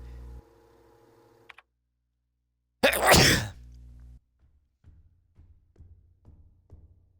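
A single loud human sneeze bursts out close to the microphone, followed by quiet ticking clicks as a game plays in the background.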